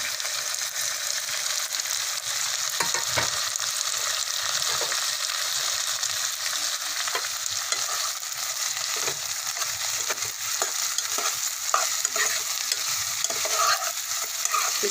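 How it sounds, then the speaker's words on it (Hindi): Capsicum and onion being stir-fried in a pan for Chinese chicken manchurian, a close, continuous sizzle with repeated scraping stirs throughout and no talking. "अभी मैं ये डाल रही हूँ शिमला मिर्च, फिर कांदा डाल रही हूँ।"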